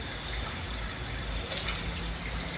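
Spring water flows at a bathing site at the Mrancang site in a steady, even gushing rush, moderately close and uninterrupted, with no talking.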